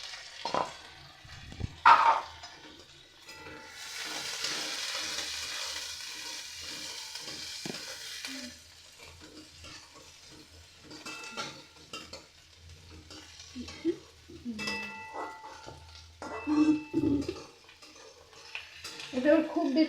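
Capsicum pieces sizzle with onions in a lightly oiled pan while being cooked for chili soybean. A soft steady fry runs under intermittent scraping stirs and utensil clinks against the pan.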